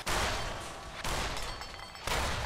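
Bursts of robot gunfire in the game Fallout New Vegas, three loud, sharp volleys about a second apart, each followed by a crackling tail, with no voices.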